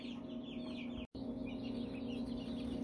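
American Bresse chickens cluck and chatter continuously in a brooder while being caught, a dense, close flock sound broken by one brief dropout.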